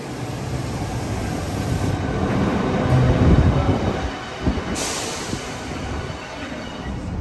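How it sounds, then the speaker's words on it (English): A passenger train rumbles along the rails, its steady roar swelling and easing, with occasional wheel noise and no voices. "Right, this is our train now."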